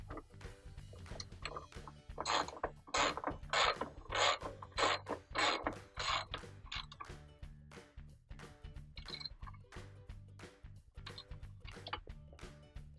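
Ratcheting clicks of bolts being tightened on a Kenmore washer's counterweight, quick bursts of mechanical ratchet strokes close by, louder in the middle then fading to scattered clicks and clunks.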